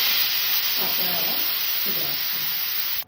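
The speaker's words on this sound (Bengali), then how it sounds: "আমি গ্যাসটাকে অফ করে দিয়ে গ্যাসে প্রেশার কুকার হাওয়াটা ছেড়ে দিয়ে" Steady loud hiss of a pressure cooker venting steam after cooking red lentils on a gas stove, continuous for about three seconds before cutting off abruptly, with faint voices murmuring underneath.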